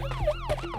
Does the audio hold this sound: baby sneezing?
no